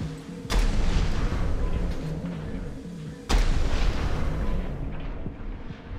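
Two heavy booming weapon shots from Armored Core VI: Fires of Rubicon, each a sharp loud blast followed by a long rumbling tail, spaced about three seconds apart over steady game noise.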